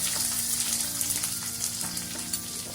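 Onion, ginger and green chillies sautéing in oil for uppuma, a loud continuous hissing sizzle with light scraping stirs throughout, no voices.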